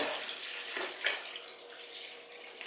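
Five kilograms of bagged milk pours steadily into a cooking pot, a continuous soft liquid rush with slight splashy surges, close and fairly quiet with no talking.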